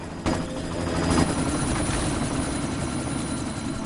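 Helicopter in the game Deus Ex: Mankind Divided, a loud, steady rotor and engine roar that swells early and holds without pause.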